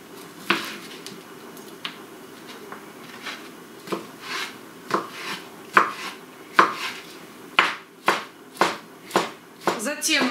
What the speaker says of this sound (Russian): мелким кубиком я нарежу копченую